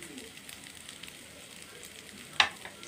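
Spices browning on a hot tawa for Lucknowi-style paneer tikka masala, a soft continuous sizzle with one sharp louder crackle or scrape near the end.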